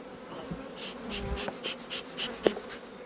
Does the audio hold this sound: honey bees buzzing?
yes